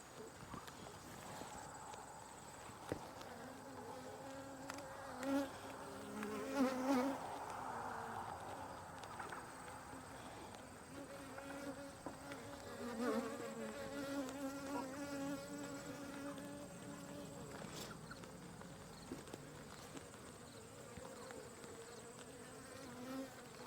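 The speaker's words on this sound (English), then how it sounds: "Come on, bees, move out of the way." Honeybees swarm around a hive frame of bee bread and capped honey, a close, continuous droning buzz that swells and fades in waves, with faint handling noises and low murmurs underneath.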